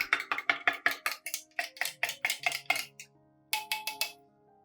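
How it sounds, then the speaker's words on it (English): A metal spoon rapidly clinks against a glass or cup while stirring turmeric powder into warm water, bright ringing taps in a quick regular rhythm, close and clear, pausing briefly before a final short burst of taps. "Stir well until the powder dissolves."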